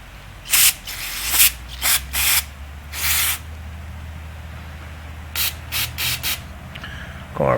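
Carburetor cleaner sprays onto a DR brush hog carburetor in short, close hissing bursts, separated by pauses with a low background hum.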